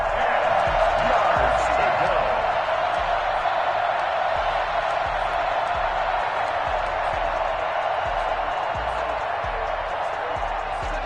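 Stadium crowd noise in a Madden football video game forms a steady, broad roar with faint cheering and murmuring throughout, sitting under a play-by-play commentator's voice.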